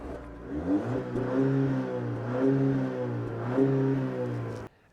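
A Cadillac CT4's 2.7-liter turbocharged four-cylinder engine revs steadily, its tone rising and falling in a few swells, close and fairly loud, before cutting off abruptly near the end; no one speaks.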